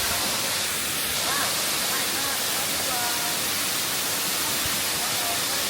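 Ephrata waterfall near Bukit Cinta outside Medan pours as a steady broadband hiss and rush, even and unbroken, with a voice faintly audible beneath the water.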